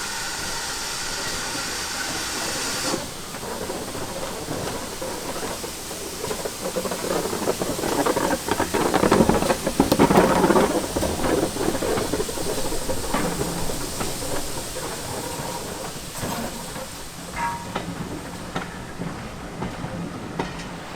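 Steam locomotive 5524 chuffs and hisses as it pulls away on the South Devon Railway's Dart Valley line, the rhythmic exhaust swelling then fading into the distance, with faint wheel clatter.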